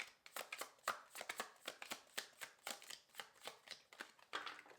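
Tarot cards are shuffled by hand in quick, crisp bursts, a rapid irregular series of close riffling slaps and flicks during a card reading, quiet overall with no talk.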